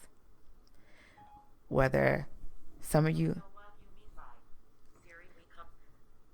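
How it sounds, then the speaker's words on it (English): A phone emits a short beep tone and then a synthetic voice speaks from it unprompted, with loud, close speech from the phone's voice dominating and quieter tones around it. "Why is my phone talking to me?"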